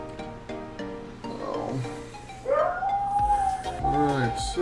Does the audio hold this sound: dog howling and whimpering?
yes